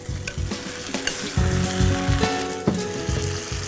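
Fried chillies stirred into a cooking masala in a pan for mirchi ka salan, giving a steady close sizzle with frequent scraping stir strokes throughout.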